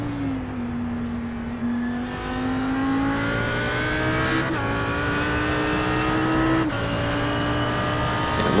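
Audi race cars lap Spa in a racing video game, a steady engine drone climbing through gears with clear shifts and a faint second car nearby, no voices.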